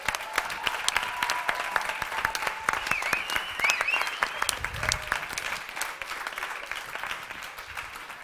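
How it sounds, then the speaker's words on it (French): Sustained applause from a concert audience at a live music venue, dense clapping throughout with a few scattered louder claps, steady and fairly close. "Applaudissez très fort."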